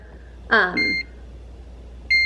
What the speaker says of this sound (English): we're gonna set our timer, and it says to cook it for